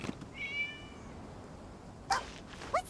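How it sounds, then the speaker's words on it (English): A cat meows in Genshin Impact: a soft drawn-out meow early on, then two short, higher meows near the end, over quiet background ambience. "It was just a cat."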